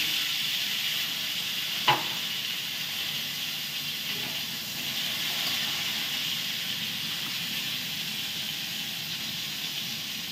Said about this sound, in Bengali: এইবার ফুলকপিটা ভেজে নেব নুন আর হলুদ দিয়ে।